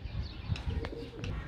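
Pet pigeons at a rooftop coop give low, soft cooing calls, a few short throaty coos over a quiet background with faint chirps, near but not loud.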